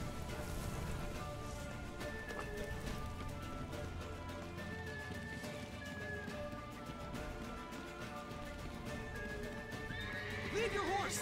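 A horse in The Witcher 3 video game whinnies and its hooves clip-clop steadily throughout, with game rain and ambience layered underneath and a louder burst near the end.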